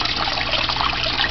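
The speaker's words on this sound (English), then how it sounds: "all you gotta do is let the water go right into the little chamber here" Water pours steadily into the small chamber of an aquarium sump, a dense, even gushing and trickling that stays close and constant throughout with no other sounds.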